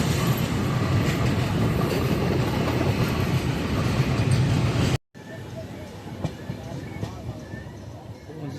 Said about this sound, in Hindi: ट्रेन है ये हमारी पटना लोकमान्य तिलक जनता एक्सप्रेस